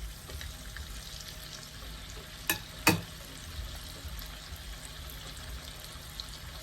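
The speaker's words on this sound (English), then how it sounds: "Let's get them in the oil and get these fried up." Chicken strips dropped into hot oil at about 350 degrees, a steady soft frying hiss throughout with two brief louder splashes near the middle, close by and alone.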